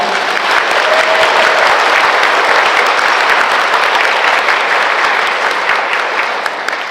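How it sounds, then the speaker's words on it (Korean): Dense, steady applause fills a Catholic parish hall as the audience welcomes a Franciscan priest at a Holy Spirit seminar. It stays loud and even throughout and eases off slightly near the end, with no voices over it. "박희전 루케이시오 신부님을 사랑의 박수로 모시겠습니다."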